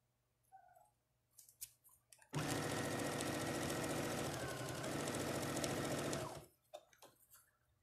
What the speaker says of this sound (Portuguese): Eu tô passando uma costura bem no meio da minha bolsa